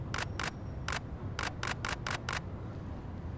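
Shutter clicks from a camera set to 1/1600 second at f/2.8 at a wedding shoot: two quick shots, a single one, then a rapid burst of five, all close and sharp over low ambient hum.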